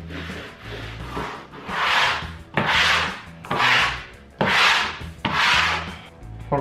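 A smoother tool swept over stone-tile-look wallpaper above a fireplace, producing six loud, close, even rubbing strokes in a steady back-and-forth rhythm.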